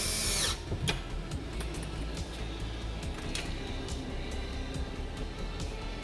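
A power drill drives screws into a car speaker adapter in a Chevy Trailblazer door, a close whirring burst at the start followed by quieter steady mechanical noise and a few light clicks.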